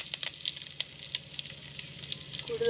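Mustard seeds fry in hot oil in a pan for a taro stem curry, giving a soft continuous sizzle broken by small crackling pops, fairly quiet and without talk.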